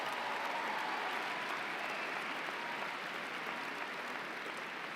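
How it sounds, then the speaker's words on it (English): Graduates and audience applauding at a high school graduation ceremony, a dense, steady wash of clapping, faint and distant, continuing evenly throughout. "Give yourselves a round of applause for that."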